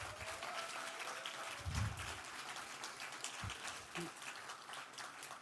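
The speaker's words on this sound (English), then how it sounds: "let's give him another round of applause" Audience applause at a panel event honoring civil rights leader Bayard Rustin, a steady wash of clapping across a room with a few louder bursts and faint voices mixed in.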